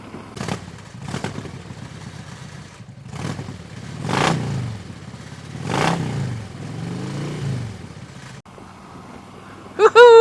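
A Harley motorcycle stalling and struggling while pulling away from a red light in third gear on a sunny Michigan road, giving several uneven bursts of engine revving with clattering in between, loud and close, before a short sharp sound at the end.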